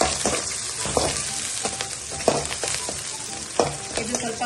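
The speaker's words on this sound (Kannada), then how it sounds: "ಇದು ಸ್ವಲ್ಪ ಬ್ರೌನ್ ಆಗೋ ತರ ಫ್ರೈ ಮಾಡ್ಕೋಬೇಕು." Sliced onion sizzles steadily in a hot pan of oil for butter chicken, stirred with a spatula that scrapes and clinks at regular intervals, close and fairly loud.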